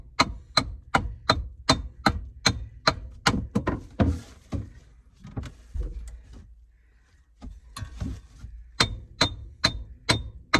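Sharp metallic hammer strikes on a metal HVAC end panel ring out in steady rapid runs, about a dozen evenly spaced blows, a pause with scattered softer knocks, then another quick burst of ringing clangs, close and loud.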